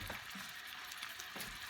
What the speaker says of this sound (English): you hear that sizzle going